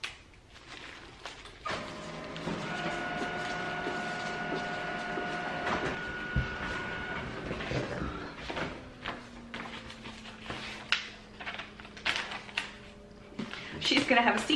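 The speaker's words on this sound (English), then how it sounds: "And I have my printer on and I have labels in there." Label printer feeding and printing shipping labels, a steady mechanical whir with tonal motor hums and clicks, followed by rustling, handling noises and intermittent talking.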